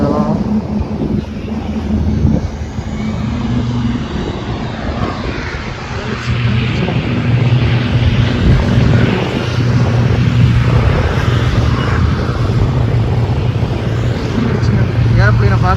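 An airplane taking off at Madurai airport, a loud sustained engine roar and rumble that swells and holds steady, with people talking over it throughout.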